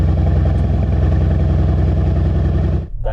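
A 600 hp Brabus-tuned Mercedes C63S AMG engine drones loudly and steadily up close, holding an even rumble before cutting off abruptly near the end.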